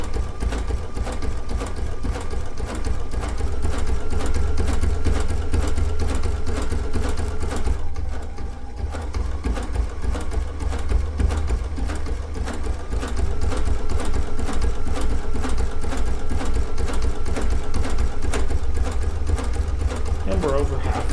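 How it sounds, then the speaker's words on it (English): A Baby Lock sewing machine stitches a line of sashiko quilting with a steady, continuous motorized whir. It runs loud throughout, with a brief dip near the middle, while a person talks over it. "And we're over halfway down this line of quilting."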